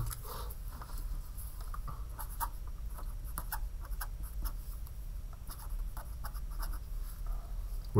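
Pen writing on paper at a desk during a lesson on heat capacity, a steady close scratching with small rhythmic strokes and taps, continuous for several seconds with no talk.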